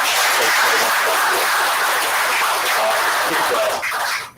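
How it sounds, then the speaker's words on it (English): An audience at a live digital economy event applauds in a loud, dense, continuous wash of clapping that fades out abruptly at the end. "Please give a warm round of applause"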